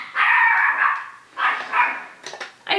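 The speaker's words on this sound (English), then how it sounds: "I told you, he's just my little guard dog" A small dog barks and yips indoors at a makeup tutorial, loud and close, in several short bursts with brief pauses between, ending in quicker yaps.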